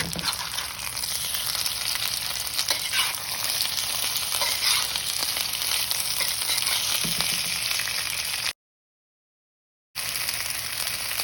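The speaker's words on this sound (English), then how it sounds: "it gets nice and hot and golden brown on one side and doesn't stick to the pan, and we can flip it now" Chicken fries in a hot pan with a steady, close sizzle that carries on alone for several seconds, drops out briefly, then returns.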